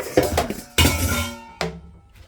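A plate being handled: three ceramic clinks and clatters, close and fairly loud, each ringing briefly before the next.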